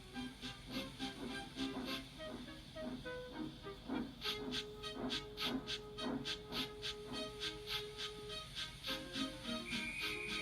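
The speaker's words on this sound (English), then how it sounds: "with much noise and blowing of steam, got ready to back onto the train" A steam locomotive chuffs in a steady rhythm of sharp hissing puffs, with a sustained whistle-like tone partway through, all fairly faint and distant.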